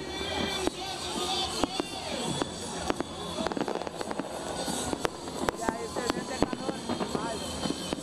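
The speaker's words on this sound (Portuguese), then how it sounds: "O ponto alto do evento foi a queima dos fogos de artifício, exatamente à zero hora do novo ano que começou." New Year's Eve fireworks at midnight over a large crowd gathered at a civic centre square in Francisco Beltrão, Brazil, with sharp bangs and crackles repeating irregularly above a constant roar of crowd noise and cheering.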